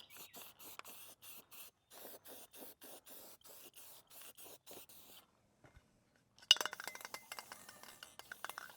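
Spray paint rattle can spraying in bursts: a rapid rhythmic series of short hissing puffs, a brief pause, then a longer, more scattered spray with clinking.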